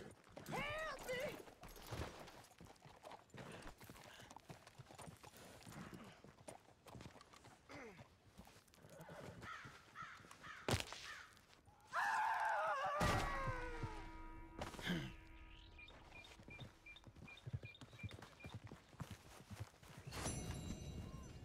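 Horse hooves clip-clop along with thuds and scattered game sounds in Red Dead Redemption II, with a louder burst of activity midway and voices speaking at times.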